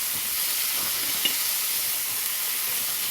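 Onion, garlic and ginger frying and being stirred in a cooking pan, a steady bright sizzle and hiss with a few faint scrapes, no talking.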